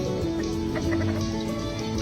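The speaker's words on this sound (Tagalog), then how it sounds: "Ito yung manok ni tatay" Rooster belonging to a father, a chicken among jungle fowl caught in a snare, giving soft clucks and low throaty calls close by over steady background noise, with no talking.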